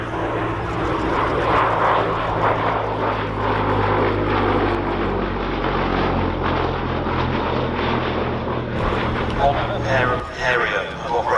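The radial engine of a 1938 vintage biplane fighter drones steadily as it comes in to land at an airshow, a loud, even propeller roar that eases slightly near the end while an announcer speaks over it.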